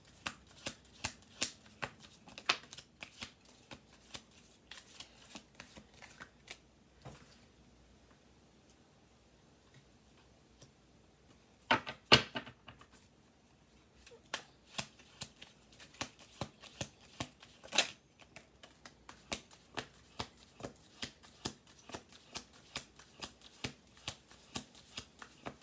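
Tarot cards being shuffled by hand, a long run of crisp riffling clicks and snaps that pause briefly near the middle before resuming steadily and close up.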